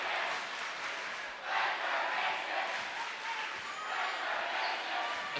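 A crowd cheers and roars steadily at a high school basketball game, a broad, loud wash of voices that swells and holds throughout with no clear pauses.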